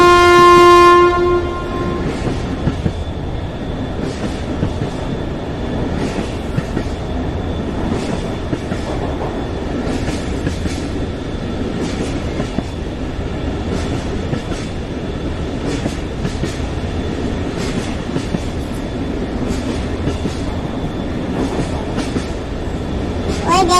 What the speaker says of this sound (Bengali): ট্রেন ছেড়ে দিবে এখনি।